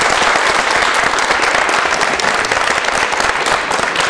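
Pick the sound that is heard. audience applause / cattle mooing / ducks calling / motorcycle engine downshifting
audience applause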